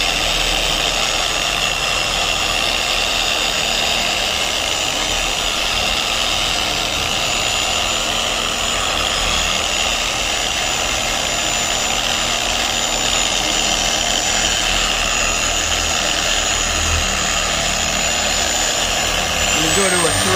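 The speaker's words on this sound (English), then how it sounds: "I'm not pressing down at all. I'm just letting the polisher do the work." A Harbor Freight Bauer dual action polisher runs on speed 2 with no downward pressure, giving a constant loud motor whine and vibrating drone throughout, with a voice talking over it.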